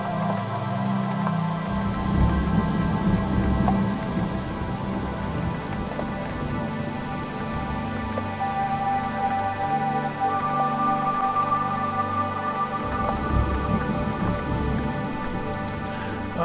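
Rain from a free sound plugin: a steady, even hiss of falling rain with soft droplet patter, continuous and fairly quiet, layered over a low ambient hum and faint tonal pad in the background.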